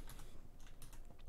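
Code typed on a computer keyboard, a run of soft, quick key clicks at close range, fairly quiet, with one sharper tap at the end and no voices.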